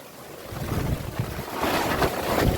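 Wind blows hard outdoors, a loud, continuous rushing roar with gusty buffeting on the microphone and no voices over it.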